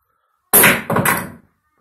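A door handle thrown against a Vestel unbreakable TV screen in a shop makes a sharp hit followed closely by a second clatter as it drops, loud and close, with no talk.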